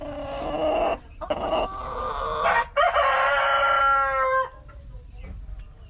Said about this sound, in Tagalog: dalawa yung tandang yan